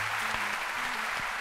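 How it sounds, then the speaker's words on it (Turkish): Applause on a Turkish TRT children's program. A brief, even patter of clapping holds steady for about a second and a half, soft and continuous with no talking over it. "Alkış balıma."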